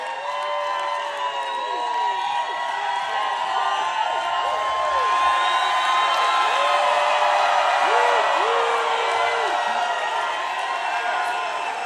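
A large campaign rally crowd in Newtown, Pennsylvania cheers, whoops and applauds steadily throughout, a dense roar of many voices at a distance that swells slightly midway.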